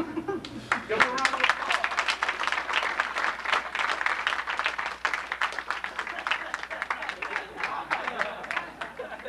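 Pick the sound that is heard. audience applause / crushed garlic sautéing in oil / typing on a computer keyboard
audience applause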